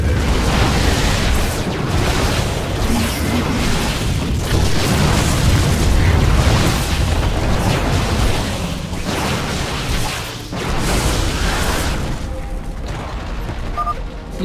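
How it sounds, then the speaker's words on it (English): Explosions from a Tal'Darim cannon being destroyed in StarCraft II: a dense, continuous run of booming blasts and rumbling debris with mechanical clatter, loud and sustained for the whole stretch with only a brief dip near the end. "You've destroyed another cannon"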